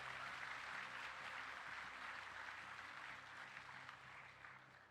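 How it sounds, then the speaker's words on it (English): Quiet, distant applause from a crowd at the TennoCon convention, a soft continuous patter of clapping that gradually fades slightly toward the end. "One more round of applause."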